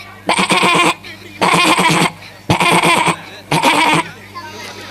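Someone imitates a goat during a mimicry act at an annual day event, with four quavering, nasal bleats in a steady rhythm, each about half a second to a second long, close and clear.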